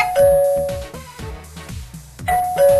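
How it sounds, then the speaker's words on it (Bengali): An indoor doorbell rings with clear ding-dong chimes, repeated twice with a pause between, ringing tones decaying over a quiet room. "দেখো বেল বাজছে"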